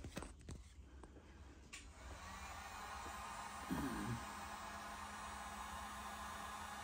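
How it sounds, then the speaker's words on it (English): A hot air gun blows a steady, even whoosh onto a temperature gauge under test, a continuous hum that runs throughout after a few handling knocks at the start. "got the hot air gun, got the temperature gauge on."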